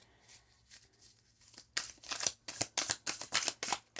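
Tarot cards being shuffled by hand: after quiet rustles, a run of rapid, crisp riffling bursts follows in quick succession, close and fairly loud, with no talking.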